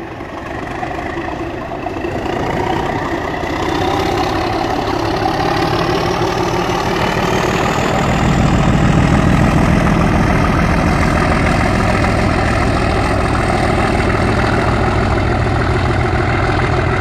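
A Bachmann model train pulling Collectors Club Mk2F DRS DCC-fitted coaches hums and rumbles steadily along the track. The sound is close and continuous and grows somewhat louder partway through.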